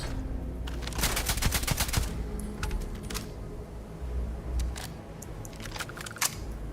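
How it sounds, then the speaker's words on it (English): Game gunfire from Starfield: a burst of rapid shots near the start, then scattered single reports and short volleys spread through the clip against a steady ambient background. "I saw him fire a bullet then"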